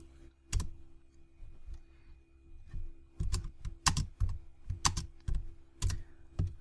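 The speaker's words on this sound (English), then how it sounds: "To check if Python is working, type Python 3." Fingers typing a command on a computer keyboard at a terminal, with sparse clicks at first, then quicker bursts of crisp keystrokes, close and clear in a quiet room.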